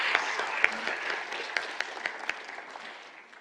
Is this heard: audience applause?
yes